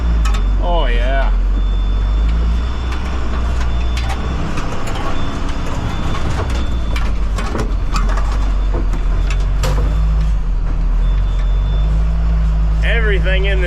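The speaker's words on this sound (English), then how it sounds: "Everything in this thing just rattles and shakes and rolls." A Cummins-powered service van bought from an auction's dead aisle drives along with a steady loud engine drone and continuous rattling and shaking, while people talk over it throughout.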